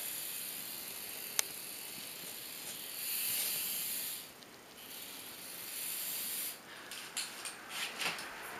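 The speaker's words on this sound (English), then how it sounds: "pull back on the nozzle and push down just a little bit so it sprays, just like that." Soft, steady hiss of a spray paint can misting black paint onto paper, in a few sustained bursts with brief pauses between them.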